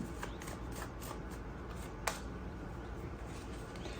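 Playing cards shuffled by hand during a tarot-style card reading, a continuous rapid riffling close to the ear with one sharp snap midway, over steady background noise.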